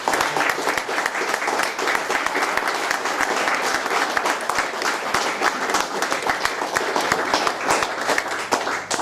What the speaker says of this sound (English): I think that it's worth another round of applause for that